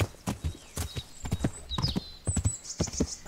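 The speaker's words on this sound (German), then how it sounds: "Da können wir jetzt doch querfeldein mal reiten." Hooves clip-clop steadily as a horse is ridden cross-country through dense forest in the medieval game Kingdom Come: Deliverance, with a few brief whinnies and rustling over a low ambient bed.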